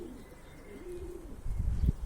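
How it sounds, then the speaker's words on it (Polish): A domestic pigeon coos softly a few times nearby in a pigeon loft, low and throaty, followed by a brief rustle or bump at the end. "To jest mój najlepszy gołąb w gołębniku."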